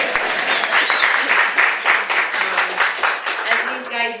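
Audience applause at a talk by a county Office for the Aging director, a dense burst of clapping from a crowd, close and loud, holding steady for several seconds before tapering.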